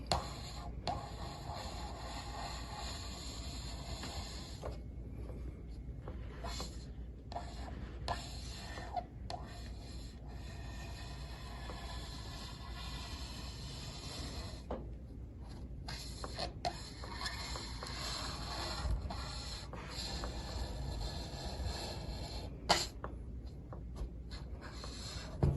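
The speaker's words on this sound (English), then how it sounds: "So this way you're cutting in the same place, keeping a nice even groove." A tool cuts an even groove around a part for a homemade multi-joint hip machine, giving a soft, steady scraping rasp that runs close and continuous with a few brief pauses.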